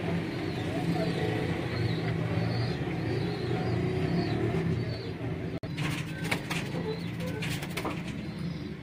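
Sialkoti pigeons coo repeatedly in a loft, soft rolling calls set against steady background rumble and traffic, with a voice talking nearby.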